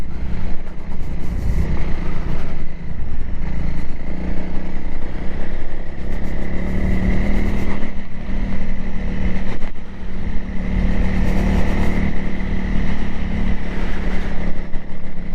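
A Honda CRF300L dual-sport motorcycle ridden in third gear, its engine droning loud and continuous up close, with rising and falling throttle and rattling clatter throughout.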